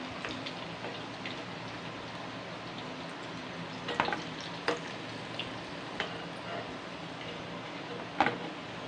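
Moong dal fritters frying in a pan of hot oil give a steady, moderately quiet sizzle with scattered sharp pops and crackles, heard alone with no talking.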